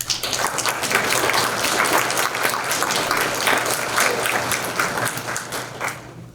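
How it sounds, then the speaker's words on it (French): Warm audience applause at a ball, dense and loud sustained clapping filling the room for several seconds before tapering off at the end. "Applaudissons chaudement et religieusement toutes ces âmes"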